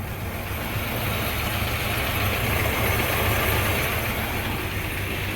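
The engine of a 1952 Eureka hearse idles steadily on its own, a constant low rumble with a slightly rough, uneven beat, close by and with no talking.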